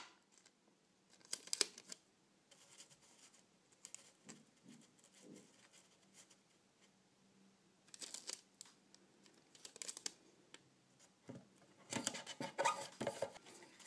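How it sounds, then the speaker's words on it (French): Sticky tape is pulled and pressed onto a small cardboard box for homemade make-up storage, giving quiet scattered crinkles and short tearing bursts with rustling handling noise between them and no talk. "Pareil, on va mettre un morceau de scotch."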